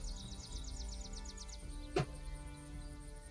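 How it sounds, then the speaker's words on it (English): Birds chirp outside in a city, a run of rapid repeated high tweets early on followed by a sharp single call, faint and distant over a steady low background hum. "these birds are not shutting up"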